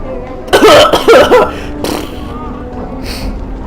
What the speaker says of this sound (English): Requin coughs, his eyes almost popping out of his skull as he does so.